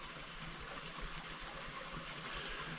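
Honey Creek, a stream feeding the Big South Fork of the Cumberland, flows steadily in a continuous broadband rush of water. The sound is moderately quiet, unbroken, and heard alone without speech.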